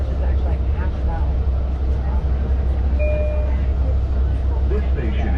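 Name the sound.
Long Island Rail Road C3 train riding, Greenport Branch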